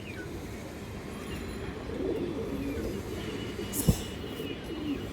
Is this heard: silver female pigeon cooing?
yes